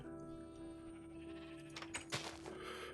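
Video game sheep from TerraFirmaCraft bleats several times in short wavering cries over a faint steady hum, fairly close and moderately loud.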